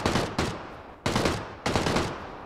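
A DP-28 machine gun fires in PUBG in steady, fairly close bursts of rapid shots, three or four bursts with brief gaps between them and no talking.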